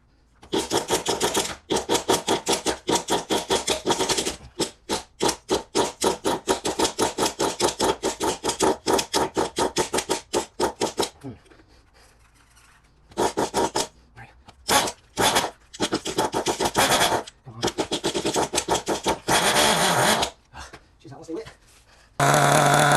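A small Kyosho Inferno Neo 3.0 nitro RC car engine buzzes loudly in rapid staccato bursts during break-in, cutting out and restarting several times, with brief pauses between runs.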